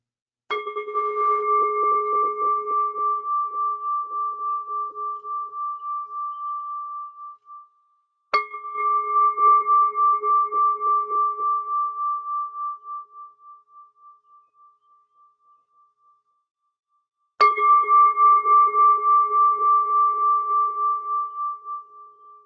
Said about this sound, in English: I'm going to ring the gong 3 more times to end our practice.